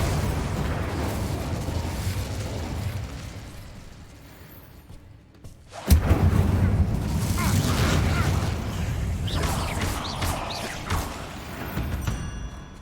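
A fire spell cast in Hogwarts Legacy erupts as a sudden loud whooshing burst of flame mid-clip, followed by sustained crackling, roaring fire and magical effects over continuous game ambience.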